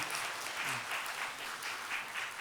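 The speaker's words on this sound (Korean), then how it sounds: "우리 박수로 안녕하겠습니다." Church congregation applauding during a Sunday worship service, a steady wash of many hands clapping at moderate distance, with a brief voice faintly audible underneath.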